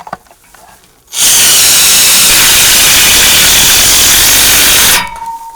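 A power driver sinks self-tapping screws into metal stand legs in one loud, steady whir of about four seconds, with quieter handling noise before and after.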